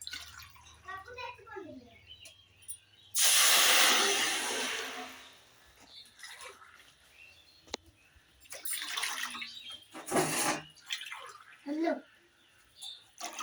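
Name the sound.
water poured into a pan for cooking Maggi noodles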